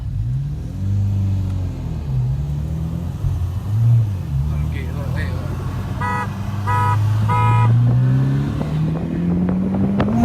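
Several short car horn toots before a launch sound over a steady engine rumble that rises in pitch as it revs, with wind buffeting the microphone, during a race with a Focus ST and WRX.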